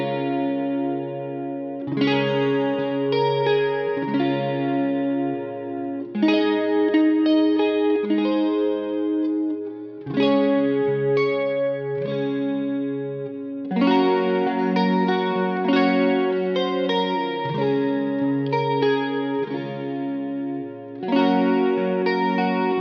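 Silent Night played slowly on a guitar run through chorus and distortion effects, heard as a steady sequence of sustained chords and melody notes with brief gaps between phrases, loud and close with no talking.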